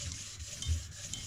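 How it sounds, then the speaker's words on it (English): A lightweight balanced crankshaft for a Mini R50 race engine being polished gives a steady, close rubbing and scuffing sound with soft low rumble, continuous and alone for the whole stretch. "it's a lightweight balanced crankshaft that we're just polishing now"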